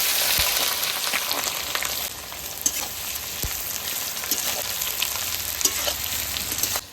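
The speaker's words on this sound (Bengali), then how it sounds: "এবার লবণ দিয়ে দেবো, পেঁয়াজটা তাড়াতাড়ি ভাজা হয়ে যাবে" Chopped onions frying in hot oil with salt in a home kitchen pan, a steady close sizzle broken by occasional scrapes and stirring knocks.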